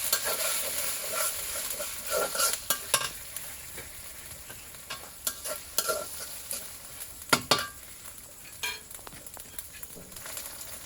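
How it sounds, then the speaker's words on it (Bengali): Onion sautés with ginger-garlic paste and cumin paste in a hot pan: a bright crackling sizzle under repeated scraping and clattering stirs that come in uneven bursts, with no talking. "এখানে দিয়ে নিলাম আদা রসুন বাটা, জিরে বাটা। এখন কিছুক্ষণ কষিয়ে নিব।"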